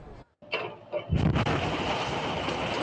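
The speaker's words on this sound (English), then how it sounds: "they hear the explosion, debris, the roof caving in on her" Recorded gas explosion inside a house, with the roof caving in: after a short silence, a few sharp thuds lead into a loud blast followed by a sustained roar of falling debris that fills the rest.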